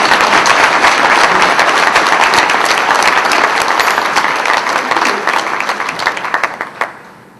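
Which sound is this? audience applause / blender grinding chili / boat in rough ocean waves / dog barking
audience applause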